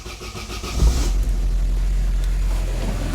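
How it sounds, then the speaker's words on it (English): A Vauxhall Astra F with a suspected alternator charging fault is started: a brief starter crank, then the engine catches and settles into a steady, close idle, with no voices. "Ignition on, start engine."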